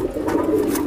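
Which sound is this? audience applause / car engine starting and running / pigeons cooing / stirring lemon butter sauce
pigeons cooing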